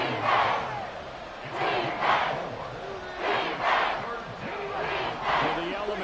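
An NFL stadium crowd roars in repeated swelling waves, loud and dense throughout, with a broadcast commentator's voice running over it.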